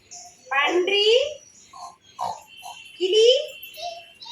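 A voice imitates a pig with two drawn-out, squealing grunts separated by shorter nasal snorts, loud and close, in a quiet room.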